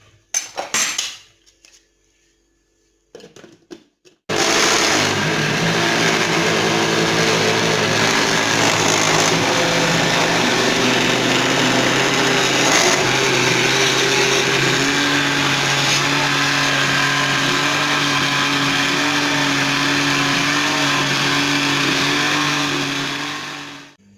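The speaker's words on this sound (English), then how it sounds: "And now let's blend." A kitchen blender purees mukimo, a mashed African dish, with soup added as liquid. A few short clatters come first, then a loud, steady high-pitched motor whir that runs on without pause and cuts off at the end.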